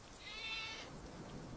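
A goat bleats once on a farm as a storm approaches, a single faint, wavering cry over low background noise.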